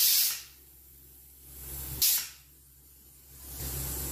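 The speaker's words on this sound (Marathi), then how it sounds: "आपण कुकरमधली पूर्णपणे हवा जाऊन द्यायची आहे" Steam hisses from a pressure cooker as its pressure is released, two loud sharp bursts about two seconds apart, each fading into a softer steady hiss.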